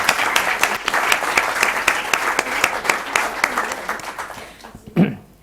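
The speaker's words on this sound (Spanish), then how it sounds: "pido un aplauso de apoyo y ánimo a nuestro compañero Pablo Jesús Aguilera" An audience at a Madrid history lecture course applauds a colleague, with distinct sharp claps merging into steady applause for about four seconds before it thins out and a short voice sound follows.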